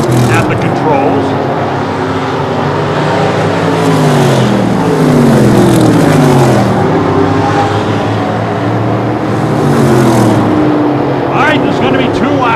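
Super short track race cars roar around Lee USA Speedway in New Hampshire, engines rising and falling in pitch as they pass, loud and continuous beneath a commentator's excited speech.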